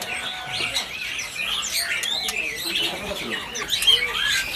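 Caged birds, including Fox Mandarin finches, chirp and squawk at a kiosk in the Pramuka bird market, a busy overlapping chatter of close tweets and calls with people talking faintly in the background.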